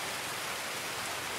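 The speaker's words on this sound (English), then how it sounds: "It's just gonna rain in every Tarkov game." Steady hiss of rainfall in Escape from Tarkov, an even, dense wash of drops with no breaks or talking, continuous from start to end.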